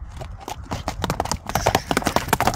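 A white horse gallops, its hooves striking in quick rhythmic clip-clop beats that grow louder and denser toward the end, close and clear outdoors.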